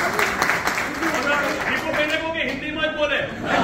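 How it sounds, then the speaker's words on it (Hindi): An indoor crowd at a corporate event in Morbi, Gujarat gives a burst of applause for Vipul ji, steady clapping from many hands mixed with voices and the announcer's amplified speech. "एक बार जोरदार ताली विपुल जी के लिए भी"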